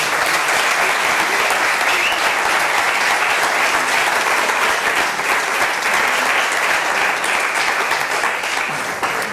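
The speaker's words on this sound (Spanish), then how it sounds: "un aplauso para ella" An audience at a talk breaks into loud, continuous applause, a thick wash of many hands clapping steadily for over nine seconds without pause.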